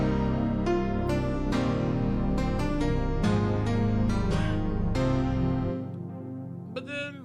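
A synth bass line programmed in FL Studio plays in a steady repeating pattern under a full mix of stacked synth notes and percussive hits, loud and upfront, fading out near the end.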